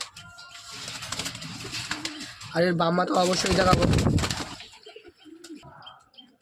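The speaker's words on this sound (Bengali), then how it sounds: "আর পায়রা খুব ভয়ের মধ্যে আছে, দেখতে পাচ্ছ" Pigeons coo softly nearby, low throaty calls mixed with someone talking over them and some rustling.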